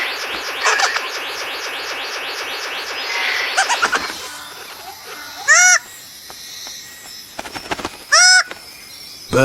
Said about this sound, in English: Birds of paradise.